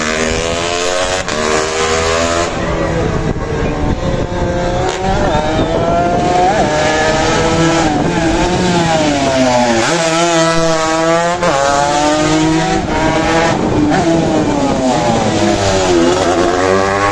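Several 200cc racing motorcycles accelerate hard on a circuit in Ancuya, Nariño, Colombia, their engines loud and close, revving high and shifting as they pass, with no talk over them.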